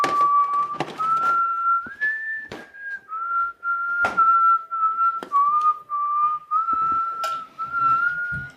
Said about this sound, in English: I must have whistled this all the time as a kid because I know how to whistle it.